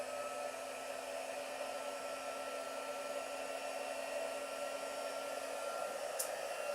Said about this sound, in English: I'm going to heat emboss it off camera so that it's not too loud.